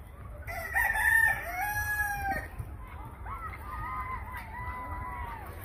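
A rooster crows loudly with a long wavering call, followed by several more crow-like calls from school kids imitating it.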